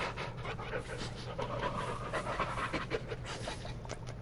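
Dog heard in the Blair Witch video game, panting close and loud in quick rhythmic breaths that carry on without pause.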